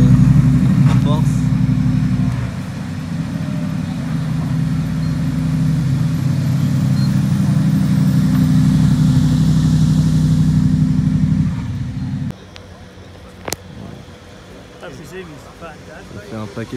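A squad of Mercedes race cars arriving at the 24 Hours of Spa, their engines forming a loud, steady low rumble that holds for about twelve seconds before cutting off, with people talking over it.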